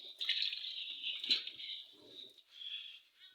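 Water pours steadily into a washing machine tub, a continuous hissing rush that briefly stops and then resumes, close by.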